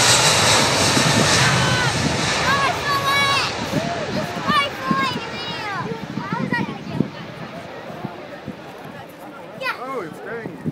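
An Airbus A380 airliner taking off at the Farnborough Air Show, its loud jet engine roar swelling and rumbling steadily under an excited crowd murmur, with people talking throughout.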